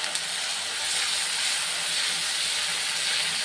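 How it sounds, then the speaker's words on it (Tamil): Ground ginger paste sautés with asafoetida in a pan where mustard seeds have already popped. A brief, steady, close hiss holds at an even level from start to end. "அரைச்ச விழுதை இதில் போட்டு நல்லா வதக்கணும்"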